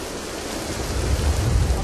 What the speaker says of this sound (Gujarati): અમદાવાદના દ્રશ્યો બતાવી રહ્યા છીએ કે જ્યાં વિધિવત રીતે વરસાદ જે છે તે વરસી રહ્યો છે